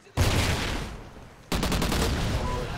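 Gunfire in Call of Duty Ghosts multiplayer team deathmatch: two loud close bursts of rapid shots, the second a rattling string of quick reports.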